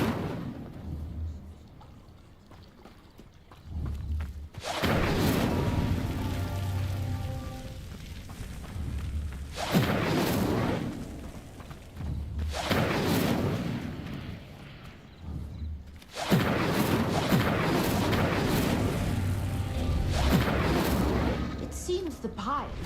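Incendio fire spell lighting pyres in Hogwarts Legacy, three loud whooshing bursts of flame roaring up one after another, each sustained for several seconds amid game ambience.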